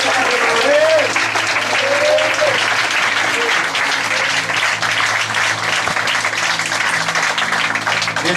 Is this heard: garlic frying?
no